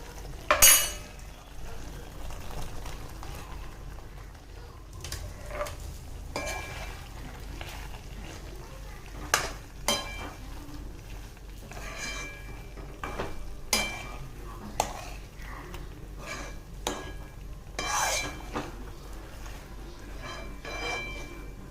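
Soya chunks stirred into cooked masala in a pan, giving a soft continuous frying sizzle with scattered sharp scraping and clinking strokes of a spoon against the vessel, fairly quiet and close with no talk.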